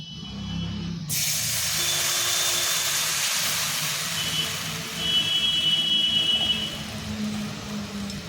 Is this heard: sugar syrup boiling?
yes